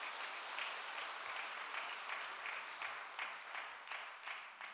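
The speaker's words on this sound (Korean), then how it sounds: "우리 다 같이 큰 박수 하나님 앞에 영광을 올립시다" Congregation applauding during a Korean church dedication and ordination thanksgiving service, a steady wash of many hands clapping at moderate distance that holds evenly throughout.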